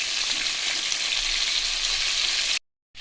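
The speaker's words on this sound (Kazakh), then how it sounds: "Осылай қызып тұрған майға қуырып алатын боламын." Chicken pieces fry in hot oil for homemade KFC-style chicken, a steady, loud sizzle and crackle close by, cutting to silence for a moment near the end.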